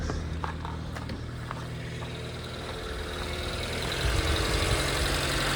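A 1988 hatchback car's engine idles steadily and close by, with a continuous low rumble and vibration that grows slightly louder toward the end; no talking.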